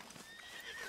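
A horse whinnies briefly in the video game Red Dead Redemption 2, a short close neigh over soft game ambience with faint hoof clatter.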